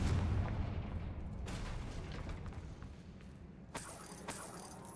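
A Confringo blast spell from the video game Hogwarts Legacy goes off as a low, rumbling boom, followed by a few softer bursts and crackles. It sits at a fairly quiet level over steady background noise.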